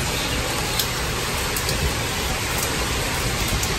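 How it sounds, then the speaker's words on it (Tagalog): Heavy rain pours down in a constant loud roar of drops, unbroken and close, with no voices over it. "Ayaw tumigil yung ulan"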